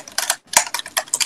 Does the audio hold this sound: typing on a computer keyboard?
yes